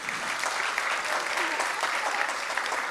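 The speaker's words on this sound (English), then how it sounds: "Let's give them a round of applause." Audience clapping at a Trans Pride awards and keynote gathering in Washington DC, a full, steady burst of applause with faint voices mixed into the crowd noise.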